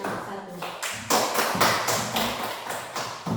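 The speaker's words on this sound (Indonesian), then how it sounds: "Kita berikan aplaus kepada kelompok 1." Applause for a group in a small gathering, heard as a few uneven bursts of close handclaps with short gaps between them.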